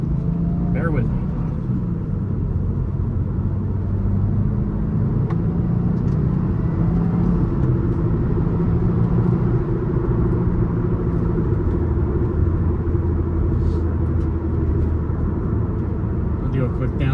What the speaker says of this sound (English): I'll do a quick downshift here